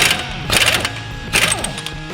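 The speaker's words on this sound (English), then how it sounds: "Impact gun." A pneumatic impact gun loosens the 32mm front axle nut on a Nissan Juke in a garage, sounding as two loud, chattering bursts roughly a second apart, each sputtering rapidly before it cuts off.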